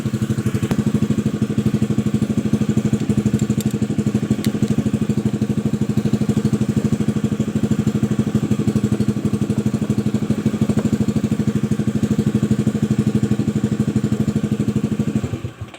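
A Honda Vario 110 scooter with an ignition and electrical fault idles close by, its engine chugging loud and steady with a rapid, even rhythm, then cutting out at the very end.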